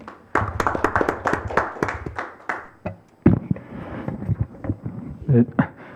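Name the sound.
audience applause at a panel forum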